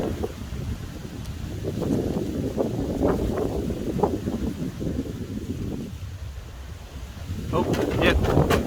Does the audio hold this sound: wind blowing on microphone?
yes